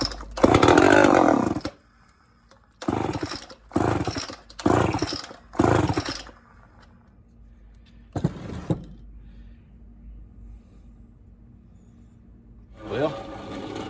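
A Homelite XL-12 chainsaw fed 20-to-1 mixed gas is being troubleshot. It fires in several short, loud revving bursts with gaps of quiet between them, then gives a couple of brief sputters later on.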